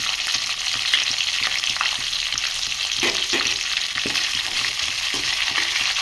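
Chopped onions and curry leaves sizzle loudly in hot tempering oil with mustard seeds for a Telugu ponnaganti greens and moong dal fry, a steady broad hiss with soft stirring scrapes scattered throughout and no talking.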